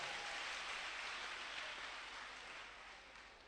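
A church congregation breaks into sustained applause, a dense wash of clapping that holds steady and then slowly fades.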